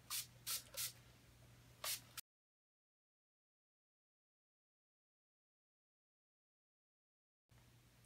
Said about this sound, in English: first thing I'm going to do is kind of just spray this all over